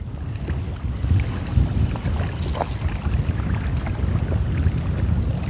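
Boat motor running steadily on open water at a fishing lake, a continuous low rumble with wind buffeting the microphone throughout, no voices over it.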